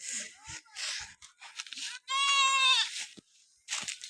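A goat on a Kenyan village farm gives one drawn-out, wavering bleat near the middle, with scattered rustling and faint voices around it outdoors in the morning.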